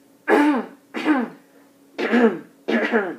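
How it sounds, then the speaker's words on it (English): A person clears their throat four times in a row during an oral mechanism examination, each a voiced rasping grunt, close and fairly loud, separated by brief pauses. "I'm going to go ahead and have you clear your throat like this."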